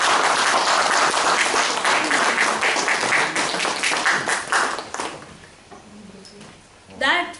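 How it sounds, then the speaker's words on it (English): Big round of applause at a Toastmasters-style club meeting, loud close clapping from a room of people that fades after about five seconds, followed by a voice speaking. "let's have a big round of applause for our wicket keeper"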